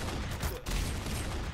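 Dense, continuous gunfire in a tactical shooter match, two players firing one after the other in rapid succession, loud and unbroken apart from a brief dip midway.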